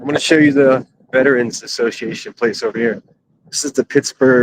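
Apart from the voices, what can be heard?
No everyday noise stands out behind the speech.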